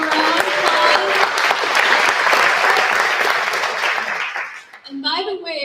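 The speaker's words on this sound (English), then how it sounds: "Let's give Paul a round of applause." Loud, close applause from an audience at an International Women's Day event, with dense clapping that tapers off near the end. A voice briefly speaks over the last moments.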